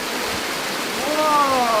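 Small waterfall cascading into a gorge, a steady loud rushing hiss of falling water, with voices talking over it near the end.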